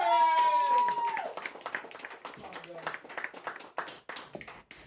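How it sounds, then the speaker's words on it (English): Scattered clapping from a small crowd at an open mic comedy night in the Blasket Bar, Tralee, sharp uneven claps rising after a sustained tone fades at the start. "give a big Blasket round of applause to the hilarious, the fantastic Rory Howard"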